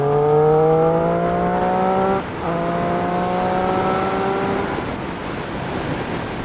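Motorcycle engine on an open road rising in pitch through a gear, a brief dip at a shift, then pulling hard again as it overtakes, loud and close over wind rush.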